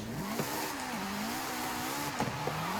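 Toyota GR86 engine in Forza Horizon 5, droning steadily at mid revs with a couple of brief throttle blips and rising, falling pitch, heard alone and close.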